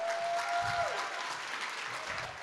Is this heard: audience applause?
yes